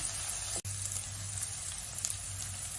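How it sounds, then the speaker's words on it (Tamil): Crushed garlic and small shallots sauté in a pan, a faint, steady sizzle with a light clatter near the start, heard alone and fairly soft. "தட்டின பூண்டை இந்த சிறு வெங்காயத்தினோட சேர்த்துடணும்."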